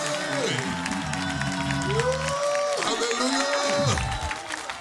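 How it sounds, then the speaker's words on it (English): A church congregation claps hands during a deliverance service, the claps running steady and dense under loud sustained organ chords and shouting voices. "And clap your hands and give him more praise."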